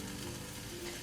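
Chicken breast sizzles in a hot non-stick pan with a steady, dense hiss and crackle, quiet and continuous without any talking.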